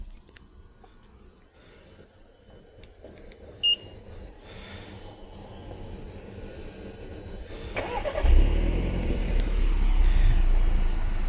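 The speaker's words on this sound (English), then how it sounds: "Number 3, the remote starter." A 2022 BMW 5 Series is started remotely: quiet ambience and a short beep, then the engine cranks and catches around the midpoint, settling into a loud, steady idle close by.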